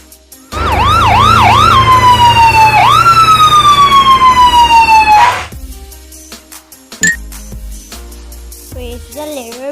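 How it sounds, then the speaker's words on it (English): An ambulance siren blares loud and close, rising and falling in quick yelping sweeps before settling into a long wail, then cuts off abruptly and is followed by scattered softer sounds. "A is for ambulance."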